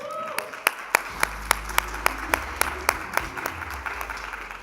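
Applause for a panelist at a public finance conference session: a light scattering of claps over a low hum, with evenly spaced sharp percussive hits punctuating it and a brief tone at the start.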